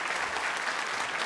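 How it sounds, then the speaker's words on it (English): Studio audience applause, a brief dense burst of clapping at steady loudness from a crowd in a talk-show studio. "Please, big round of applause"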